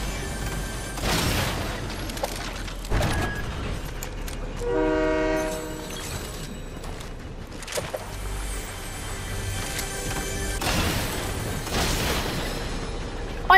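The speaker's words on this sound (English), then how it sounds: "Yo, get on train, get on train, get on train." Train in a video game storm match rolls along with a long horn blast midway, steady rumbling and clacking under other game effects, no talk heard.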